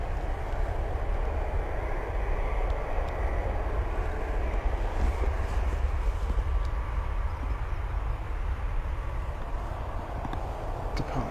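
Jet airliner departing Bristol Airport, a continuous broad engine roar heard from a distance, steady in level throughout with some wind noise and no voices.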